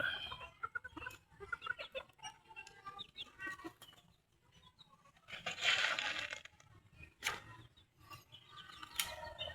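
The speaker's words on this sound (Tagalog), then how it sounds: "Yung aking isang manok na puti." Chickens cluck and chatter nearby in irregular bursts, with a louder squawking flurry midway and scattered clicks and rustles.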